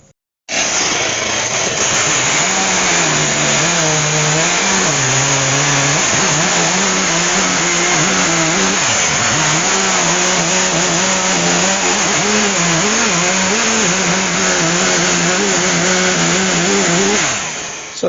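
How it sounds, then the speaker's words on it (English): A chainsaw cutting a lump off a dry cherry tree trunk runs loud and close for about seventeen seconds, with a steady, slightly wavering engine drone that starts and stops abruptly and has no talk over it. "get a chainsaw and cut a lump off the top of there"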